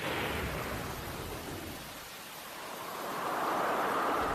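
Thunderstorm with steady heavy rain in an Australian storm-preparedness advert, a broad continuous roar that dips slightly midway and swells again, loud and close throughout with no voices.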